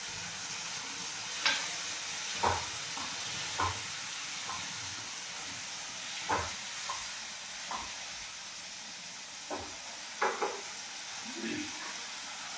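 Green peas sizzle in butter in a pan while being stirred, giving a steady frying hiss broken by scattered scraping and clinking knocks, with faint speech now and then.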